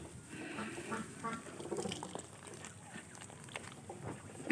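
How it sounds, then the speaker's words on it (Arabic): Pet ducks being fed, with soft quacking and scattered feeding noises at low level, while someone talks quietly. "النهاردة يوم جديد مع البط بتاعي، لسه جاية اهو بعلفه"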